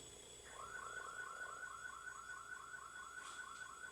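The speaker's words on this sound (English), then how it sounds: "Alarm probably on his car." A car alarm sounding from a neighbour's car outside at night, a steady repeating warble of rising electronic tones that runs on continuously after a short start, moderately distant and alone.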